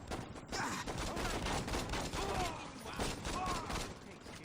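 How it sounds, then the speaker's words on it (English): Saint's Row video game gang battle with dense, continuous gunfire and explosions, loud rapid crackling bursts filling the whole stretch without pause. "Things are exploding."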